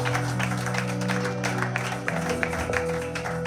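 A church congregation applauding, dense sustained clapping over a held organ or keyboard chord, with a few louder individual claps standing out near the end.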